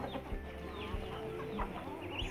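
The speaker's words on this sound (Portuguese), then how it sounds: "Gente, é muita galinha." Many chickens on a small farm cluck close by in short, repeated bursts over a soft yard background, with no talking.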